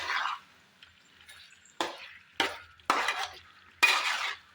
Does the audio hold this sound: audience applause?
no